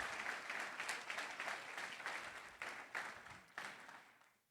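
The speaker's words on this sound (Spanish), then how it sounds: "¿Por qué no me acompañan a darles un aplauso también en agradecimiento?" Conference audience clapping in thanks to organizers and hotel staff, a moderate round of applause heard at a distance and fairly quiet, swelling in a few bursts before tapering off at the end.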